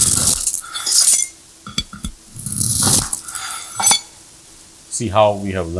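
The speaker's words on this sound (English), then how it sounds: "how we can create our own AI glass cutting ASMR videos with Google VEO 3" Glass being cut with crisp clinks and scraping bursts, AI-generated for glass cutting ASMR, heard in several separate strokes, with a voice briefly speaking at the end.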